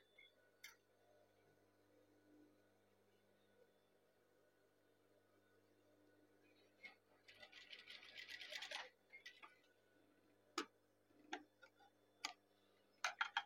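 Sewing machine stitching a folded batik tulis sleeve cuff, heard as a faint, soft mechanical run with a quiet steady hum, then a burst of rapid ticking stitches and several sharp clicks near the end.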